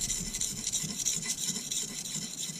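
A kitchen knife is drawn repeatedly across a sharpening stone, giving quick, rhythmic rasping strokes close by, with no voices.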